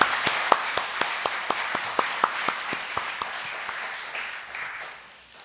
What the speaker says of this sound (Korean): 축복과 격려의 박수 한번